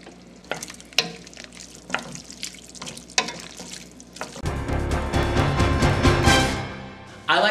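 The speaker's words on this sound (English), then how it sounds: "add the onions back to the pan." Onions tipped back into a pan of browned mushrooms for stroganoff, first a few clattering stirs and knocks, then a loud, close, sustained sizzle and crackle of frying.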